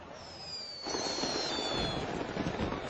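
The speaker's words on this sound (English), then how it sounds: "A barrage of fireworks is Mangueira's cue to enter the Sambadrome." A barrage of fireworks erupts at the Rio de Janeiro carnival Sambadrome as a dense, continuous crackle and rumble that thickens after the first second, with a thin whistling tone streaking across it.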